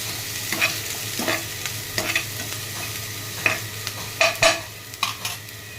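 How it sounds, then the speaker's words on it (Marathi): Onion and chopped green chilli frying in a pan with a steady low sizzle, broken by repeated scraping stirs of a spatula every second or so, close and fairly quiet, with no talking. "मिरची टाकली ह्याच्यात, ती टाकली आणि कांदा आता लाल होईपर्यंत जरा परतून घ्यायचा आहे."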